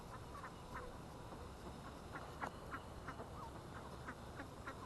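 Ducks quack in scattered short calls on a pond, several birds at moderate distance over a steady broadband outdoor hiss.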